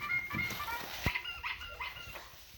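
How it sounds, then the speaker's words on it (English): A puppy from a litter whimpers and yips in a few short, high, thin bursts, close by and fairly soft, with small pauses between the cries. "Is that a puppy?"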